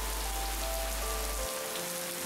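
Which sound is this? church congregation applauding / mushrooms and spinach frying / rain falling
rain falling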